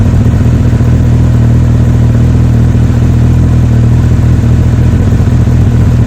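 A loud Honda CBF1000 motorcycle engine drones steadily at about 5,000 rpm, a constant close roar without pauses or voices.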